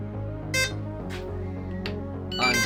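A model airplane beeps repeatedly until its controller connects: short electronic beeps at intervals over a steady droning hum, a small device chirping insistently.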